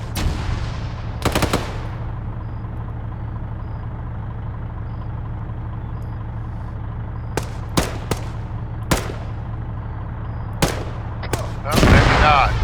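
Scattered bursts of machine gun fire crack through a steady low engine-like rumble in a military video game, with a brief run of louder shots near the end.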